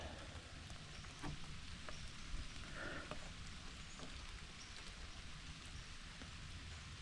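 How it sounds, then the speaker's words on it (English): Steady rain falls continuously, a dense hiss of drops pattering on surfaces with occasional louder drips, no voices. "it's about quarter to 6 and it's raining"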